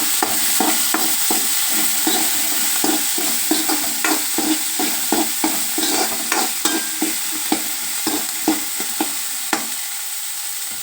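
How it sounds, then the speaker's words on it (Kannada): Chopped green chillies frying in hot oil in a pan for sabbasige palle (dill greens curry), with a steady hiss and a rapid run of sharp stirring clicks of a spatula against the pan, no voices. "ಇದಕ್ಕೆ ನಾನು ಹೆಚ್ಚಿಟ್ಟುಕೊಂಡಿರ್ತಕ್ಕಂಥ ಹಸಿ ಮೆಣಸಿನಕಾಯಿಯನ್ನು ಹಾಕ್ತಾಯಿದ್ದೀನಿ ಫ್ರೆಂಡ್ಸ್"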